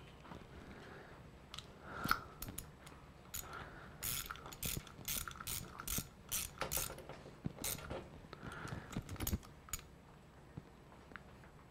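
A hex nut on a 66/80cc two-stroke motorized bicycle's choke is turned and tightened, giving a series of close, quiet metallic clicks and rattles in irregular bursts, alone without talk.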